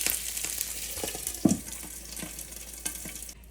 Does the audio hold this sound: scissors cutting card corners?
no